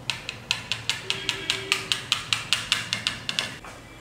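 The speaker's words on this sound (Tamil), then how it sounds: "இந்த மாதிரி நல்லா பீட் பண்ணி வச்சுக்கோங்க" Eggs and green chillies are whisked in a bowl with a fork, making a rapid, even series of light clicking taps against the bowl at close range, with no voices.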